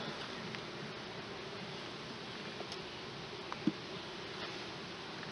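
A soft, steady drone of honeybees at an open hive hums continuously at close range, with faint clicks and a brief tap partway through.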